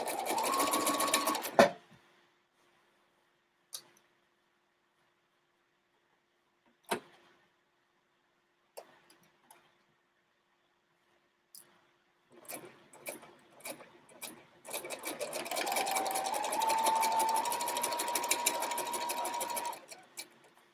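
A sewing machine stitches a quilt with pins in it, whirring briefly at the start, then falling silent apart from scattered clicks and taps, before running in stuttering bursts and finally a longer steady whir near the end.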